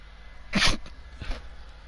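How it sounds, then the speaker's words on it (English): A single sharp sneeze bursts out close up, followed a moment later by a softer sniff or exhale. "Had to sneeze."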